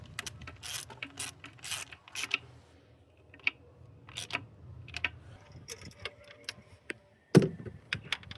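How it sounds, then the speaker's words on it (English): A ratchet wrench works spark plugs out of a 2006 Volvo XC90 V8, giving short bursts of rapid clicking with pauses, metallic knocks and handling noise between turns, close up. "All right, let's take out the spark plugs."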